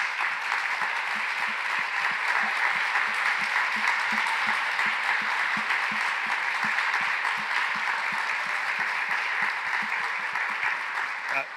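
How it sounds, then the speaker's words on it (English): An audience at a youth forum of the Americas gives a loud, sustained round of applause for the speakers, dense clapping that carries on steadily without a break. "please join me in giving a really incredible round of applause for the incredible speakers today"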